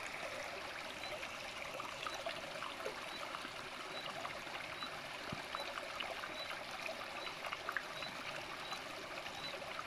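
Water swirls and trickles continuously as a natural garden treatment of zeolite, copper and potassium bicarbonate is stirred into it, a steady, close, gurgling wash with no talking.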